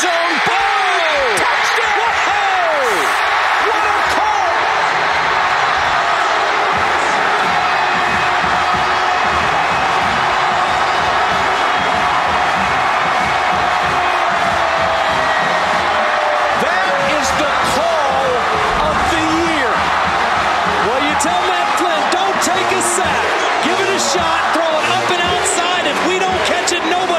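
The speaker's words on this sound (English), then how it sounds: "This crowd is stunned." A packed football stadium crowd roars after an Auburn versus LSU touchdown, a loud continuous wash of cheering and yelling that swells and rolls through the clip, with a commentator's voice over it.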